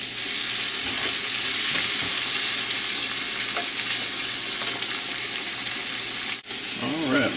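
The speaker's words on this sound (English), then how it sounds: "I'm going to stir fry this for a couple minutes" Kimchi with a couple tablespoons of its juice stir-fries in a pan for a kimchi ramen, giving a loud, continuous sizzle with scraping stirs and a brief dip near the end.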